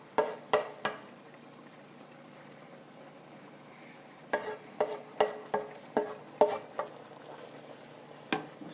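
A utensil stirs fresh parsley into spaghetti in a pan, making a run of sharp scrapes and clacks in uneven bursts over a faint sizzle, close and with no talk.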